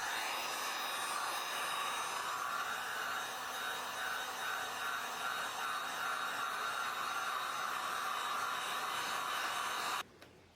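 Heat gun warming the center trim of a Mercedes W205 C-Class sedan, blowing a steady, close airy whir that runs unbroken for about ten seconds before cutting off abruptly.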